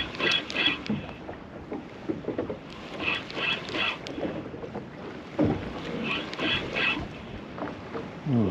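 Strong wind gusts sweep across a lake, buffeting the microphone in surging, rushing waves that rise and fall steadily through the recording, loud and close.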